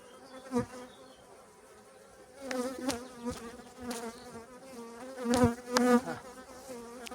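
Honeybees buzz close by, a fluctuating drone that rises and falls as individual insects fly near, growing louder in the second half.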